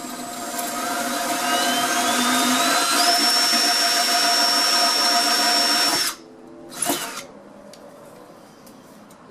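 A power drill bores straight through a stucco wall while a round vent hood duct is installed, a loud steady whine with rising pitch for about six seconds, then a sudden stop and a short second burst, no talking.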